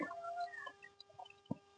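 Native country chickens cluck as they peck at soaked, sprouted grain scattered on the ground, giving a few short, moderately close clucks and chirps with brief pauses between them, and no voices.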